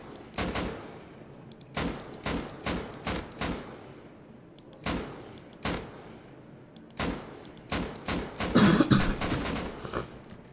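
Gunshots fired from a base in a survival video game, aimed at a bear, ring out as about a dozen sharp separate cracks with ringing tails, spaced irregularly with a quicker burst near the end.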